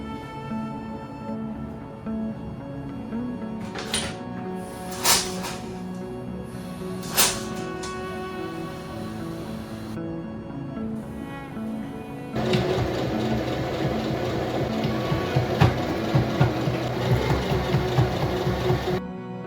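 Domestic sewing machine stitching a dress lining closed with a pocket caught in the seam, a steady mechanical whir running throughout, growing louder and busier in the second half, with no talking.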